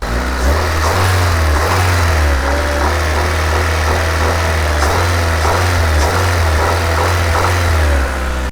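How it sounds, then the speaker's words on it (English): A Honda Civic engine with a developing rod knock runs at a steady idle with a deep, continuous hum and faint repetitive knocking ticks riding over it. "So essentially what's going on is we're getting a rod knock developing."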